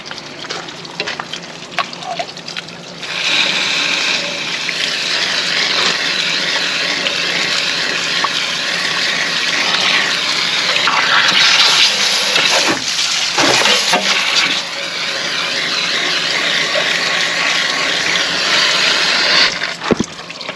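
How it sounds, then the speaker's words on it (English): Water gushes steadily through an RV water heater tank during a vinegar descaling flush, a loud continuous rushing and splashing that starts after a brief pause and runs for the rest of the stretch, with small fluctuations. "So we're going to give it another little flush here."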